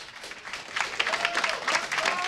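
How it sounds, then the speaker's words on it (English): A live audience at a StarCraft 2 tournament gives a round of applause for duckdeok, moderately loud clapping and a few cheers that build over a couple of seconds. "So another round of applause, please,"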